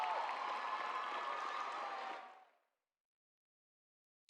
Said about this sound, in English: Miriam, let's just give her another round of applause.